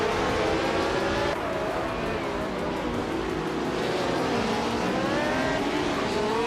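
A 1967 Cooper T81B vintage race car in a racing video game roars off the line, a loud continuous engine drone that climbs and shifts pitch as it accelerates, with other cars blending in.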